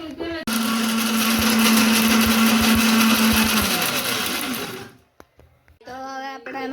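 A kitchen mixer grinds chutney for samosas, its loud whining motor running for about four seconds before winding down to silence, after which a voice speaks briefly nearby.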